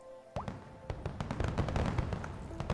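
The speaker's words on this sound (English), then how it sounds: "let's go with a narrow one to make sure I don't send any fireworks up above" Fireworks launching and popping in the video game Frog Fractions 2, a dense run of crackling bursts and pops that starts abruptly and keeps going steadily, close and fairly loud, with no talking.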